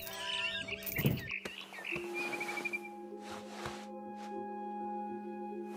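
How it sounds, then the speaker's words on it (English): Barn swallow chirps in a video game scene, quick bright tweets clustered early then sparser, over a quiet ambient bed with sustained tonal hums and occasional soft clicks. "Then I heard chirping outside my window. It was a barn swallow going back to her nest."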